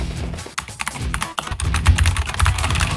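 Typing on a SteelSeries Apex Pro TKL (2023) tenkeyless gaming keyboard with an aluminum alloy body, a fast run of crisp, close key clicks that grows denser toward the end, with no talk over it.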